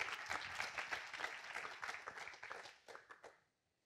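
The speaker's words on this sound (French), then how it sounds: "J'entends pas assez les applaudissements," Dense applause from a conference audience at the closing keynote of a tech event, steady many-handed clapping that thins out into a few last claps and then stops, moderately distant.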